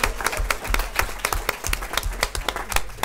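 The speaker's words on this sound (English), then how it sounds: "Give them a round of applause" A small audience at a travel trade event applauds the critics, with close, crisp individual claps in an uneven rhythm over about three seconds.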